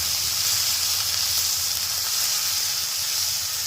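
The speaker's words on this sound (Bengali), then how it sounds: "এবার টমেটোটা দিয়ে দেবো। দিয়ে রাখা মশলাটাও দিয়ে দেবো। মশলাটা ভালোভাবে কষিয়ে নেবো।" Tomato and spice masala sizzling in hot oil in a pan, a loud, steady frying hiss close by that runs without a break.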